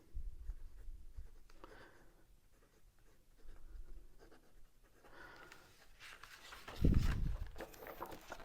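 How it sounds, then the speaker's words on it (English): Fountain pen nib scratching steadily across Amazon Basics notebook paper, close and soft, with a louder rustle of handling near the end. "let's try the fountain pen on the Amazon notebook"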